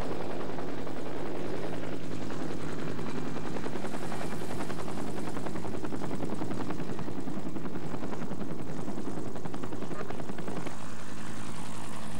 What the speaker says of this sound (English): The pilots find stable patches of ground large enough to allow a safe landing.